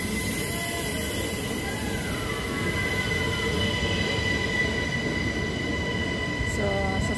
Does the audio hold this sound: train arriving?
yes